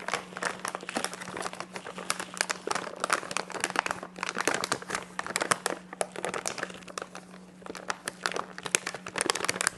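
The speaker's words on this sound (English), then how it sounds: "As much air out as I'm folding the bag into the bucket." Plastic food-storage bag folded down into a bucket while air is pressed out, continuous close crinkling and rustling with a faint steady hum underneath.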